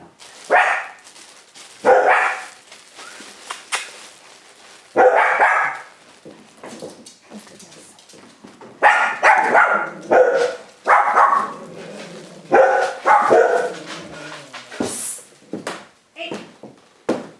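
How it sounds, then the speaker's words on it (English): A dog barks repeatedly indoors, loud bursts of barking spread irregularly through the stretch with short gaps between them, and a few faint sounds in the quieter spaces. "That right there is barking."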